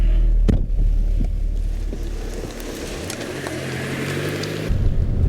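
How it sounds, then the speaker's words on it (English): A Lotus Esprit Sport 350 with its 3.5-litre V8 engine gives off a low, steady rumble that swells in the middle stretch, mixed with heavy wind buffeting across the microphone. "fire up the V8"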